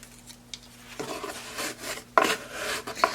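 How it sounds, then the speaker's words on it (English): Excess clay is scraped off a pottery wheel bat with a tool in short rough rasping strokes, close and moderately loud, over a low steady hum with no voices. "We're going to scrape that off."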